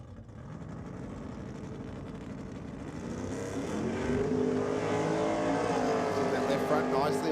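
A drag racing car powered by a 615 cubic inch big block Chevrolet roars at Sydney Dragway, its engine note building and growing louder over several seconds, heard from a distance under a commentator's voice.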